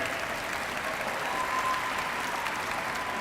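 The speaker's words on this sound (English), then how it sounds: "let's give a round of applause to the people that got you here today" A graduation audience applauds the families and friends of graduates, steady dense clapping from a large crowd that holds evenly throughout.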